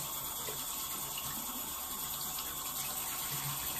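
Warm water runs steadily from a tap in a continuous, even hiss of flowing water, close and unbroken for a few seconds.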